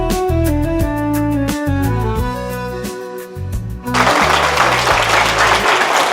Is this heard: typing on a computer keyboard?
no